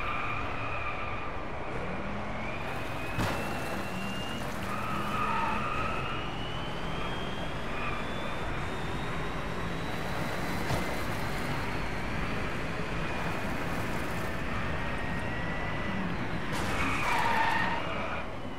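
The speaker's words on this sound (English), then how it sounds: "Yeah, this car is pretty quick." A Rimac Concept One races in Driveclub, its electric drive whining steadily as tires squeal through long skids, with a sharp thump and a louder burst of screeching near the end.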